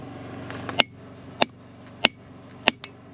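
Four sharp, evenly spaced cracks ring out about every half second, each a crisp snap of a gemstone rock giving way under pressure, with a faint fifth tap at the end.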